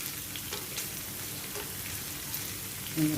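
Paneer pieces shallow frying in a pan for dhaba-style matar paneer, a dense, steady crackling sizzle close up, with a brief clink near the end.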